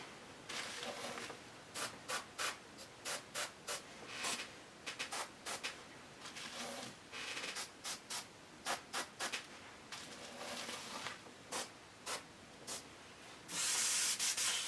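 Airbrush spraying pearl-white paint onto a garage kit bust in short, quiet hissing bursts, some a second long and others quick puffs, sounding close with pauses between them and a longer spray at the end.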